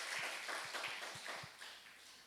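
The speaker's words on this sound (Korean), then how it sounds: "우리 감사의 박수 한번 드립니다" A church congregation gives a round of thankful applause during a Sunday service, a few scattered, fairly soft claps sounding from the room.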